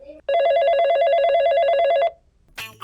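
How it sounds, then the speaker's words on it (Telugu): A telephone rings in a steady electronic trill for about two seconds. The ring is loud and close, and it stops just before a short voice comes in. "ఫోన్ వస్తుంది."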